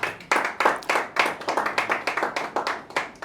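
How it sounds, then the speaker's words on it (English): Audience at a photography academy graduation ceremony claps in a quick, steady rhythm of sharp, close hand claps that carry on without a break. "A round of applause for him, please."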